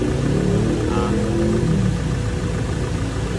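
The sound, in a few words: Nissan car air conditioning compressor running after restart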